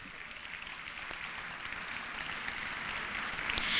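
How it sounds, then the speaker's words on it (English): Audience applause at the Richland One Hall of Fame induction gala in a convention center, honoring five new inductees; a steady, dense wash of clapping from a large crowd, sustained throughout and swelling slightly toward the end. "let's give our 5 new members of the Richland One Hall of Fame another round of applause"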